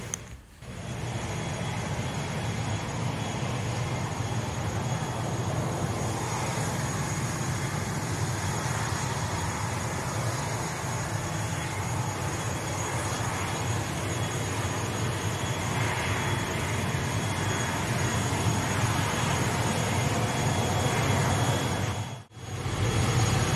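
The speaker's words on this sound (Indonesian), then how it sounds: "ini adalah suasana bandara di Wamena, ibu kota provinsi Papua Pegunungan." Ambience at the airport in Wamena, Papua, with a continuous broadband roar of aircraft engines that holds steady for a long stretch before a brief drop near the end.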